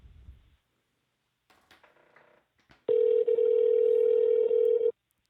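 A telephone call placed from a phone: brief faint handling noise and dialing clicks, then a loud, steady ringback tone held for about two seconds before cutting off into silence.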